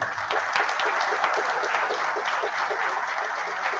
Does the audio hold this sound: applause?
yes